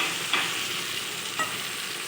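Papaya curry sizzles steadily in a pan after water is added, and two faint scraping strokes of a spoon rise briefly above the frying hiss.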